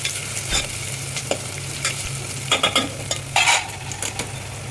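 Chopped onions and green chillies fry with a steady sizzle in a pan, broken by occasional scraping stirs of a spoon, close and fairly loud.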